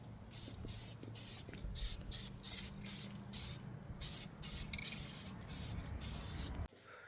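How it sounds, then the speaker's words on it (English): A spray paint can coats a Honda Integra roll cage in epoxy enamel, delivering repeated short hissing bursts with brief gaps between them, close and fairly loud, before stopping abruptly near the end. "If it doesn't, we'll just spray it with something else."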